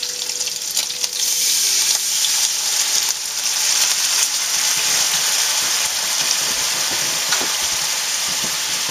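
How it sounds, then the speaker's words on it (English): White wine hisses and sizzles in a hot pan with browning Italian sausage as it is stirred, a steady, close, broadband frying sizzle with occasional faint utensil scrapes. "Now we're just going to kind of stir that around till that white wine disappears, evaporates."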